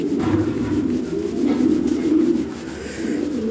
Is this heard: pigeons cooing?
yes